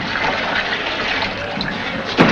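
Water poured or running into a pail on set: a steady, close splashing rush that holds evenly for a couple of seconds before a brief louder slosh at the end, with no talk.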